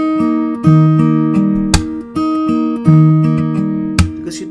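Electric bass thumb slaps played off tempo with an arm-driven technique, a series of punchy low notes with sharp percussive attacks and ringing harmonics in an uneven rhythm.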